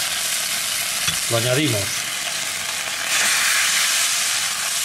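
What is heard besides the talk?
chicken jus boiling and sizzling in pan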